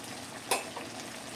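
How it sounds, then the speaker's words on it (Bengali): Cooked mangoes for Bengali mango chutney are stirred in a pan, a soft bubbling simmer with a couple of quick scraping strokes and a sharper knock at the end, close and fairly quiet. "আমগুলো কিন্তু এবার নেড়ে চেড়ে দেখে নেব ভালো মতো সেদ্ধ হয়েছে কিনা"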